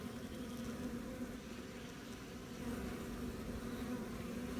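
A steady, low buzzing drone of honeybees at a growing hive, continuous and even in loudness throughout, with no voices over it.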